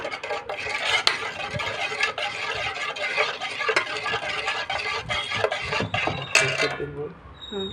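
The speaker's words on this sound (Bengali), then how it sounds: "এবার এটাকে ভালো করে ফাটাতে হবে একটু।" A spoon rapidly beats yogurt with sugar in a bowl, steady scraping and clinking strokes continuing throughout, with brief talk under the whisking.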